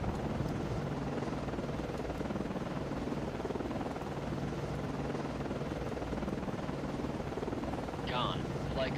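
An aircraft landing on a ship in a naval video game, a steady loud rotor-like engine drone with wind rush running throughout, a voice briefly heard near the end.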